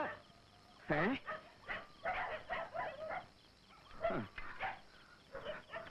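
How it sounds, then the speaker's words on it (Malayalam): Dogs bark and yelp in a Malayalam comedy film scene, with a few sharp barks and whimpers mixed in among close dialogue. "നാടൻ പട്ടികൾക്ക് ഇത്ര ശൗര്യം ഉണ്ടെന്ന് എനിക്ക് ഇപ്പോഴാ മനസ്സിലായത്"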